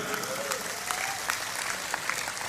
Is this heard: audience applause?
yes